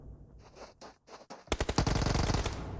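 SMGs firing in a PUBG Mobile pro league match, a few scattered shots at first, then a sustained loud rapid burst of automatic fire up close.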